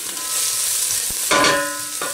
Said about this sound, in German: Das auch ganz kurz anbraten.